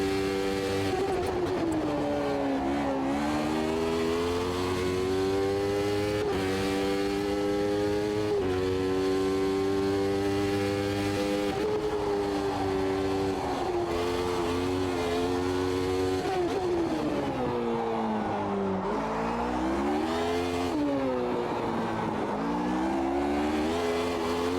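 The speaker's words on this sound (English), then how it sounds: "I think it's too easy to drive these cars." F1 race car in Automobilista 2 revving continuously through the gears, a loud high-pitched engine whine rising and dropping with shifts and braking, with occasional tire noise.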